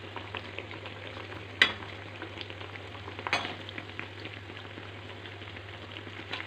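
Lentil vadas frying in hot oil in a large kadhai, a steady close sizzle and bubbling throughout with a couple of sharp clinks from a spoon or ladle, no voices.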